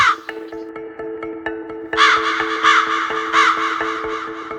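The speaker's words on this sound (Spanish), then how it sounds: "destaca una figura negra con una inteligencia sorprendente: el cuervo grande." A common raven in the highlands of China gives loud, hoarse caws in an uneven series over a steady sustained tonal backdrop.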